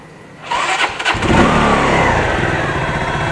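A new fuel-injected motorcycle engine cranks after a brief pause, then catches and settles into a loud, steady running note close by for the remaining few seconds, with no talking.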